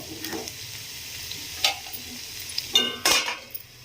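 Amaranth leaves fry in a pan with a low crackling sizzle, broken by a few sharp scrapes and clinks of a spoon stirring against the metal, close and unaccompanied by speech.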